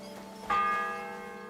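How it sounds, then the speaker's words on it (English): A single bell strike in Kingdom Come Deliverance 2 rings out with a sudden clang, then a bright tone that hangs and slowly fades over a steady low background hum. "The 7th bell."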